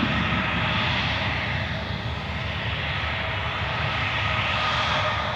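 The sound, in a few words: Loganair Embraer 145 jet taxiing away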